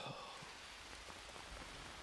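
Steady rain patters on surfaces in the jungle survival game Green Hell, a dense, even hiss of drops that holds close and constant throughout with no voices.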